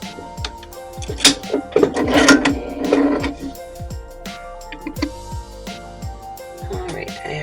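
A sewing machine runs a straight stitch to hold fabric pieces down while making a braided twist item, its mechanical whir rising in a loud burst mid-clip among scattered handling clicks and knocks.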